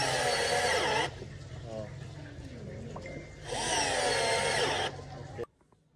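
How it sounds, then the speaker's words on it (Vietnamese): Makita 36V cordless brushed drill, water-resistant, driving screws: two loud sustained whirring bursts of about a second each, separated by quieter handling noise, with someone talking throughout. "Em test bắn vít luôn cho anh em xem nhá."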